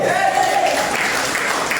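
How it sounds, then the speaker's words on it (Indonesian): A congregation claps briefly during a Sunday church service, a dense wash of applause filling the room for under two seconds. "Berikan tepuk tangan buat Tuhan kita."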